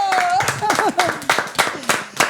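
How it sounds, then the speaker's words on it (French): Audience clapping for a boxing champion at a French web TV show, crisp claps in bursts close by, mixed with an overlapping speaking voice. "Est-ce qu'on a le droit de l'applaudir ?"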